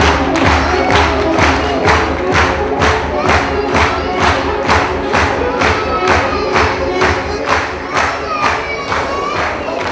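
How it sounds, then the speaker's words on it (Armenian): At a wedding, guests applaud the bride's parents with loud, steady rhythmic clapping that fills a large room, a crowd murmuring and cheering beneath the even beat. "Ավելի բարձր ծափահարենք նորահարսի ծնողներին"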